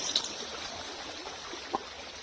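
Water in a shallow creek flows in a soft, steady, faint trickle, with a couple of brief splashes and no talking.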